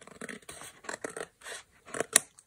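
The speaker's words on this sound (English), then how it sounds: "So I'll just use my scissors and I'll just cut" Scissors cutting open paper envelopes for a junk journal cover: a handful of short, crisp snips and scratchy paper cuts in an uneven rhythm, close up and alone, ending with a sharper final snip.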